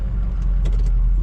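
A 2005 Ford F250 diesel 4x4 truck idles and creeps forward in four-high, a loud, deep, steady diesel rumble close by, with brief light clicks and voice-like sounds partway through.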